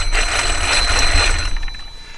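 A Polish People's Republic TAJ-3MR field phone rings when called, giving a continuous buzzing, bell-like trill that holds steady and then tapers off, loud and up close with no speech.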